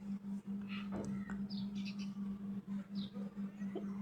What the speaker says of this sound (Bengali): চড়ুই পাখির বাসা। তো তারা সারাক্ষণ কিচিরমিচির করে